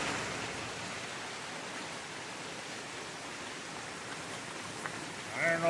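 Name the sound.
heavy rain falling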